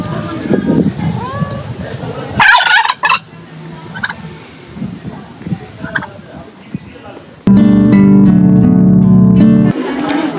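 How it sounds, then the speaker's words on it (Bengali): Village fowl in Chimney village near Kurseong call in a few short bursts, with a loud harsh stretch toward the end, over outdoor ambience with people talking nearby. "এখানকার লোকাল মুরগি"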